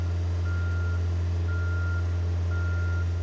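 A boom lift drives in reverse with its backup alarm sounding three evenly spaced beeps over a steady low engine drone, close and loud.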